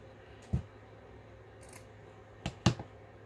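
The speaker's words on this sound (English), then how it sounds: "just cut some of it off" Scissors snip through fabric for a sewing sampler journal: a single close cut, a pause, then a quick pair of sharp snips.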